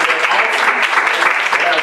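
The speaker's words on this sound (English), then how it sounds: "Let's give it a hand clap." A conference audience in Augusta, Georgia claps hands in a dense, continuous burst of applause, loud and close, with some voices mixed into the crowd noise.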